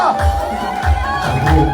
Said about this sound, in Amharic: እልልታ ጭብጨባ አስገባ